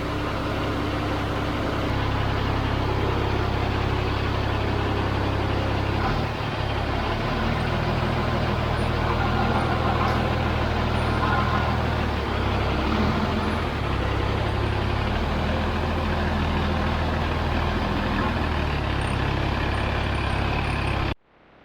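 A KSRTC bus pulls away from the bus stand, its loud diesel engine rumbling steadily and close by for about twenty seconds, with the low drone shifting as the vehicle moves off and no voices heard.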